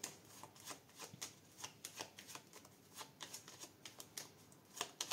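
Tarot playing cards being laid out and handled on a table, a faint close series of quick papery slaps and flicks in irregular bursts, with no voice over them.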